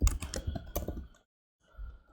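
Rapid keystrokes on a computer keyboard click in a quick burst for about a second, then stop briefly before a few softer taps resume, close and clear with no voices.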